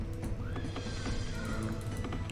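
Horse whinny in America: No Peace Beyond the Line, faint and close amid soft clip-clopping hooves and busy game ambience.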